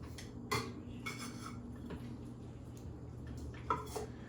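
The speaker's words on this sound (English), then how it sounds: "take something and mush up the black eyed peas into a paste" Cooked black-eyed peas being mashed into a paste, heard as quiet scraping and occasional clinks of a utensil against a bowl over a low background hum.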